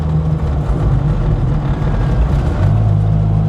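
Engine of a Classic Mini with a gear selection fault while shifting gears, a loud, steady low droning hum with a slight shift in pitch near the end as gears change, close and without voices.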